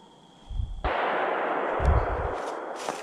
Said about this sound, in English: That's Dad. Dad shot.